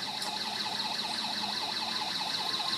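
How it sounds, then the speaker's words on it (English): A steady electronic alarm from a low-cost solar-powered saline infusion alarm system wails with a repeating warbling tone, rising and falling in quick regular cycles, fairly close and continuous. "This is the normal function of the alarm."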